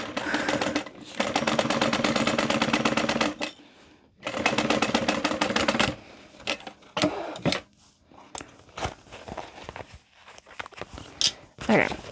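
A sewing machine stitches a handbag in two sustained runs of rapid, steady stitching, stopping and restarting, followed by quieter handling and rustling of the fabric.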